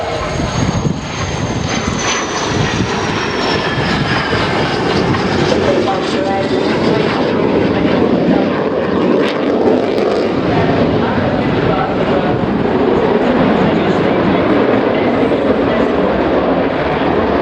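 An Italian Air Force Panavia A-200A Tornado jet flying a low display at the RIAT air show, a loud, sustained roaring engine rumble throughout, with a commentator talking over it.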